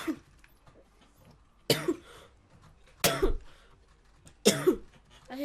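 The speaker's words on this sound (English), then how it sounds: "I hate having a cough." Three harsh, sudden coughs from a sick person, spaced about a second and a half apart, loud and close against a quiet background.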